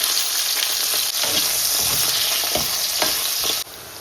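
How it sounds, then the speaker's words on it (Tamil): Eggplant fries in hot oil with a loud, steady sizzle and crackle, with soft stirring scrapes in the pan and the sizzle dropping slightly at the end. "எண்ணெய் சூட வேண்டியது கத்திரிக்காயை கொஞ்சம் பொறிச்சு எடுப்போம்"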